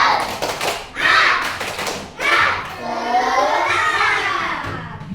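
Children in a classroom do a rhythmic spirit clap, bursts of clapping in patterned groups mixed with their voices chanting along, loud and close.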